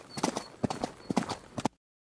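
Horse galloping sound effect: a few quick groups of hooves clip-clopping on a hard surface, close and clear, then it cuts abruptly to silence.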